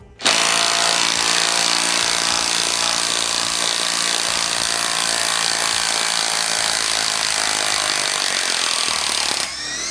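Procraft PS20 impact screwdriver running in reverse to back out a screw, a loud continuous whirring drone with steady rapid hammering, close up and alone, stopping abruptly at the end.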